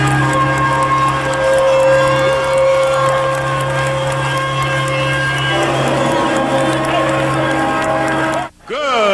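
Wrestling event crowd in a Memphis arena cheering and clamoring steadily, a broad loud roar of many voices with a steady hum beneath and talk mixed in, dropping out briefly near the end.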